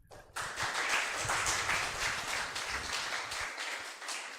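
An audience claps together at a stakeholder engagement forum for a book donation initiative, giving steady, fairly distant applause that holds at an even level for several seconds before thinning slightly.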